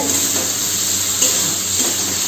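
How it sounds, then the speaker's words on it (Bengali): Vegetables fry in a pan with turmeric added, giving off a steady, close sizzle and hiss that sounds unbroken. Faint stirring ticks come through underneath. "এখন সবজিতে হলুদ অ্যাড করা চলছে, খানিকটা ভাজা হয়ে গেছে"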